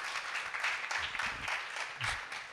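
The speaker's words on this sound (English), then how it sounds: "Please give her another big round of applause." An audience breaks into applause at a talk, a dense sustained clapping from many hands filling the room at moderate loudness.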